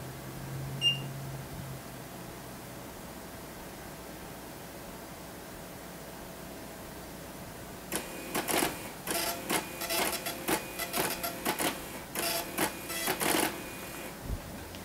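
A Technidyne Micro S5 meter scans a working standard, a quiet hum followed by a run of rapid mechanical clicking and whirring bursts that starts partway through and lasts several seconds.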